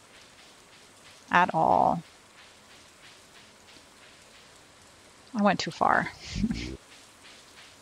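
Soft, steady rain ambience from the Stardew Valley video game hisses faintly in the background, broken by two bursts of a person talking and short game sound effects.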